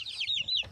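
A few quick, close clucks come from healthy hens with their chicks on a poultry yard, sharp and bright in one short burst with no talking.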